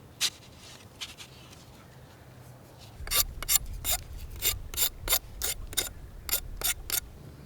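A wooden spear being carved and filed close up, with sharp rasping strokes in bursts, sparse at first and then a quick regular run of scrapes.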